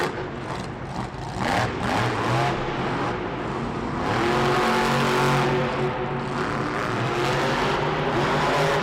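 Monster truck engine at a Monster Jam arena event in Indianapolis, loud and sustained, rising and holding in a heavy roar with crowd and arena noise blended in, growing stronger in the second half.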